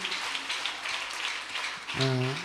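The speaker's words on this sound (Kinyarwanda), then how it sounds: "Dukomere Imana amashyi menshi cyane" Applause from a church congregation giving thanks to God, a broad continuous clatter of many hands under a preacher's voice, with a sung or spoken tone rising near the end.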